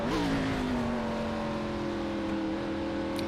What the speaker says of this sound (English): You can hear the blip on the downshift to try and match the engine revs to prevent the back end locking up.